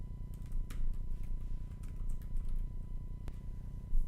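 Quiet keystrokes on a computer keyboard tap out a short word in loose bursts, close but soft over a low steady hum, with no talking.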